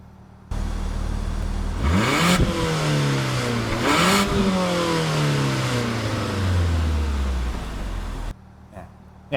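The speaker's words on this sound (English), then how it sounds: "Have a quick listen to me getting some revs in on this thing." A Mazda CX-90 GT PHEV's small four-cylinder engine revs up hard twice, climbing to a high whine, then drops back and slowly winds down before cutting off; loud and close.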